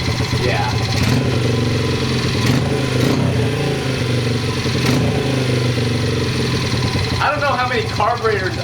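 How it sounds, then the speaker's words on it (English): A modded Honda 50 pitbike engine runs steadily at a loud, close idle with a buzzing small-engine drone, and speech is heard over it. "That's a little more like what a Honda 50 should sound like."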